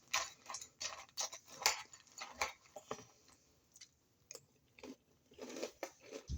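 Corn Pops cereal is crunched and chewed up close, irregular crisp bites and munching in bursts with short quiet gaps, no speech.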